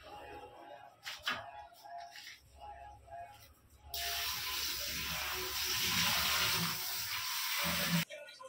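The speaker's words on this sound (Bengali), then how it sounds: "এবার ভালো করে ধুয়ে নেব।" Potatoes being rinsed under a running kitchen tap, a steady loud hiss of water that starts partway through after quieter handling sounds, with someone talking faintly in the background.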